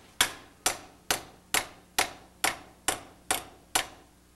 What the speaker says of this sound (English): we're also going to hammer this.